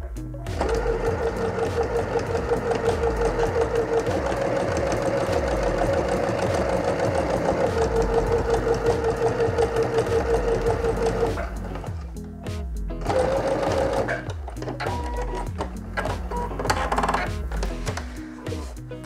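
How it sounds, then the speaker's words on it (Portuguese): A sewing machine stitches a test seam, running continuously and loudly for about eleven seconds with a rapid mechanical thrum. It stops briefly, then runs again in a shorter burst. "eu fiz a costura na minha máquina"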